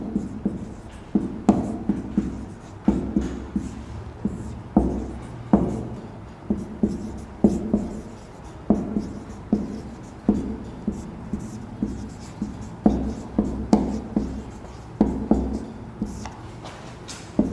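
Handwriting on a board or paper during a Hindi literature class, a steady series of short scratchy strokes with brief pauses between words, fairly close and clear, with no talking over it.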